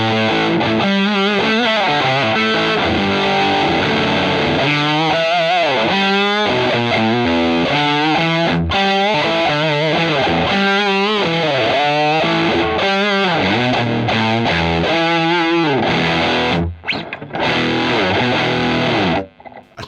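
Electric guitar through a BOSS DS-1 distortion pedal, thick saturated chords and riffs played loud and continuously with sustained, buzzy crunch, cutting off briefly near the end.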